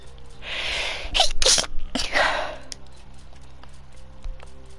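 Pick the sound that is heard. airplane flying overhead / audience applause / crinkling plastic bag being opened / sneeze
sneeze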